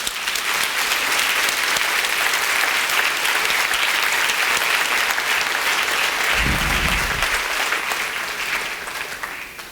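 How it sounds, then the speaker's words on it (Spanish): A church congregation applauds steadily and loudly throughout, a dense sustained wash of clapping that fades slightly near the end, with a brief low thump partway through. "Le damos un aplauso a Dios por su amor."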